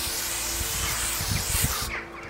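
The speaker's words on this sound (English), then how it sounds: "spray the deodorant now." A loud, continuous deodorant aerosol spray hisses for about two seconds, then cuts off abruptly.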